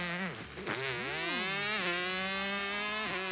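A voice imitates a MotoGP racing motorcycle, buzzing engine tones swooping up and down in pitch like gear changes, loud and close.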